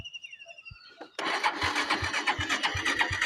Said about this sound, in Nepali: स्टार्ट हुन गाह्रो हुन्छ बाइक।